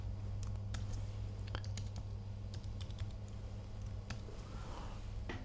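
Typing on a computer keyboard while entering photo metadata: scattered quick key clicks with irregular rhythm over a steady low hum, fairly quiet and close, no speech.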